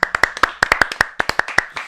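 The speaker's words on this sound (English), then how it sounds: "round of applause everyone for Michael." A small group claps in a round of applause for a guest on a couch in a shed, brisk close handclaps lasting under two seconds.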